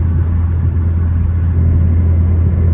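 Steady, loud low rumble of a Ford car with a dual-clutch transmission being driven, a constant engine drone heard from inside the cabin with no talking.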